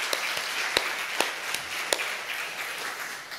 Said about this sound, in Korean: 우리 요한 새 가족들을 위해서 우리 격려의 박수 한번 하도록 하겠습니다.